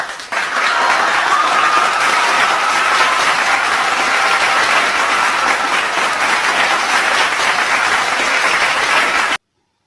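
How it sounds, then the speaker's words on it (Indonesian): Steady, dense applause rings out in a Sakura School Simulator game scene, a loud crowd clapping continuously for nearly ten seconds and then cutting off abruptly, with no voices over it. "Ayo semuanya beri tepuk tangan kepada Zea."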